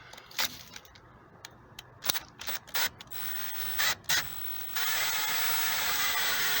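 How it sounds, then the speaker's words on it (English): A Makita drill driver fitted with a Kobalt bit drives a Tapcon screw into concrete, giving a few short bursts of whirring and ratcheting, then a steady sustained grinding run close up with no talk. "I'm going to use, first of all, this Kobalt bit and see what it'll do on this Tapcon that's in this concrete here"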